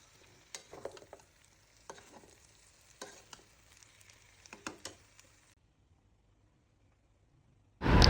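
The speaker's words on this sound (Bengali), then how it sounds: "পেঁয়াজটা এখন একটু কষিয়ে নিব মাংসের সাথে।" Onion sautés with beef in mustard oil in a pan, with intermittent soft stirring scrapes and light sizzling bursts that die away into near silence before a sudden loud noise at the very end.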